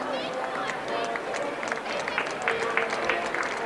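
Rugby crowd leaving Ballymore stadium after the 1986 Australia v Argentina test match, a steady murmur of many voices with scattered claps and footsteps, moderately distant and continuous.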